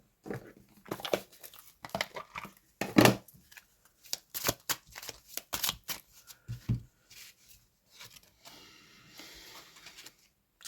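A tarot deck is shuffled and cards are drawn and laid down close by, giving irregular bursts of riffling, slapping and papery rustling with short pauses and no talking.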